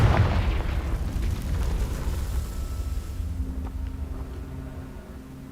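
A Confringo spell blast erupts in a video game as a loud fiery boom with crackling debris, rumbling and then gradually fading into a low hum.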